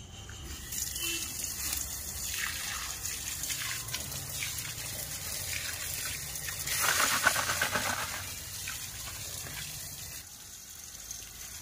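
Fish being rinsed under a running tap, with a steady gush of water into a sink that swells briefly near the middle and then settles, no talking.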